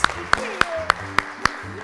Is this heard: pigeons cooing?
no